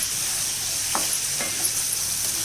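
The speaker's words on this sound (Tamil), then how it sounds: "இதை ஒரு 2 நிமிஷம் வதக்கி விட்டுக்கலாம்." Long beans sautéed in a pan, a steady bright sizzle throughout with a couple of soft stirring scrapes, close and fairly loud.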